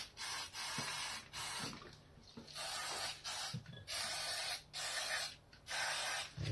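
Cleaner sprayed onto the rear brake of a TNT 125 motorcycle during a brake service, heard as a series of hissing bursts with brief pauses between them, fairly quiet and close.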